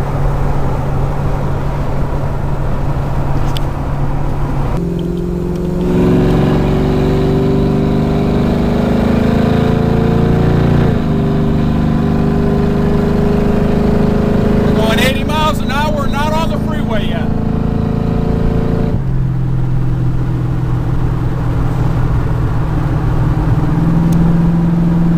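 Steady engine drone of a 1954 Plymouth cruising at about 60 mph and 1900 RPM, a constant mid-low hum with road rumble heard from inside the car, while people talk over it.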